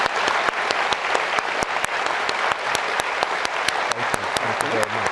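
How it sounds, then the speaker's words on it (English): A lecture audience at Georgetown Law School applauds Chief Justice John Roberts: a steady, thick wash of many clapping hands with a few sharp individual claps, and a voice begins speaking near the end. "Round of applause for the Chief Justice."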